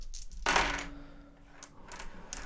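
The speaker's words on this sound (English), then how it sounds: "And we reroll the dice." Dice roll out onto a table during a solo game of the Merchants Cove board game, making one sharp clattering burst that settles into a few faint ticks and taps.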